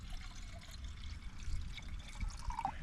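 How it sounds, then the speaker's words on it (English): Water being poured for tea at a campsite in the Scottish Highlands, a soft continuous splashing trickle, fairly quiet, with light ambient noise around it. "I'm going to put water on for one more tea"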